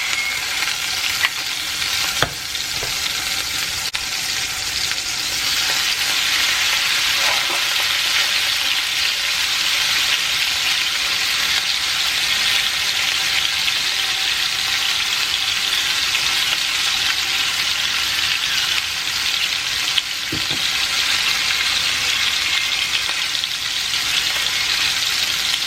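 Hamburger patties for a Big Mac frying in a pan, a loud, continuous close sizzle that holds steady for the whole stretch with a couple of sharp pops.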